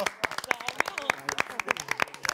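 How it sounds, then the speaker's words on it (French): Audience applause on a French TV talent show, a lively burst of hand clapping from a small group, close and uneven, with a voice briefly heard over it. "on peut les applaudir."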